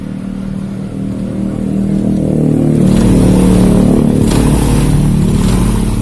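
A Honda Supra motorcycle engine starts and revs at dusk during an oil-flow check, its idle rising into a steady, loud, sustained rev up close with no talking.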